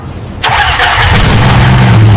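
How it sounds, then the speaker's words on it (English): A restored Bugatti V10 hypercar, recovered from the deep ocean, cranks and fires with a sudden burst, then settles into a loud, steady running roar close by, with no voices. "Listen to that V10 scream."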